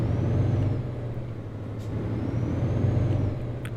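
A truck in Euro Truck Simulator 2 pulls away, a low steady engine rumble rising and falling, with a faint whining tone and a couple of brief hissing clicks.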